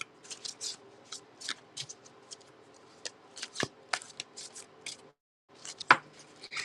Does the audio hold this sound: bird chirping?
no